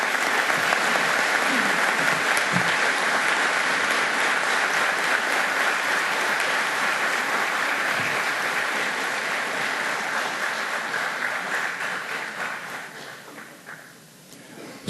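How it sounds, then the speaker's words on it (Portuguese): A crowd at a ceremony honoring Brazilian FEB war veterans applauds in a long, dense, even wash of clapping that gradually tapers off toward the end. "Palmas para os nossos pracinhas, os nossos heróis e as nossas heroínas."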